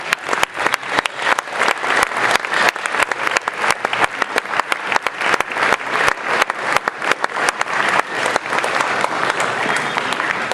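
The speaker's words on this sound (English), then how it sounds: "So if we could start with a round of applause for all the students who have participated tonight." Sustained applause from a large audience at a high school spring concert, honoring the music students, a dense, steady wash of many hands clapping close and loud throughout, with scattered sharper claps standing out.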